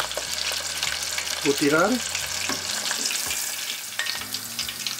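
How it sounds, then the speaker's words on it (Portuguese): Cuttlefish strips fry in hot oil with a loud, busy bubbling sizzle and some stirring, while a person briefly speaks partway through. "O óleo já está quente, vou adicionar as tiras."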